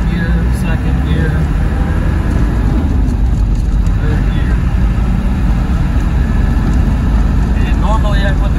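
A 1990 Land Rover Defender 90 SVX pickup with a 200Tdi diesel pulls away through first and second gear, its engine and road noise forming a steady, loud drone with no clear pauses across the whole stretch.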